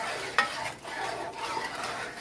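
Strawberries and a cup of sugar being stirred in a pot to make syrup for sweet tea, a close soft swishing and scraping with one sharper knock of the spoon early on, over a faint low sizzle.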